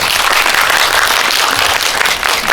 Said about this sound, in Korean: 다시 한번 뜨거운 박수 부탁드립니다.